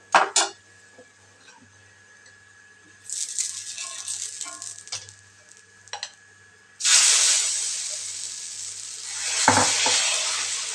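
Millet adai batter hits a hot pan with a sudden loud, broad sizzle that swells and holds near the end, preceded by clinks and rattles of utensils and a brief burst of frying, close and without talking.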